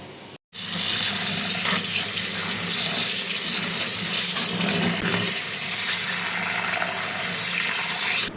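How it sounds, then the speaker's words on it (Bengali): Rice being rinsed in a kitchen sink under a running tap, a steady loud rush of water splashing over the grains after a brief pause at the start, with no talking. "চলো চালটা ধুয়ে নিলাম"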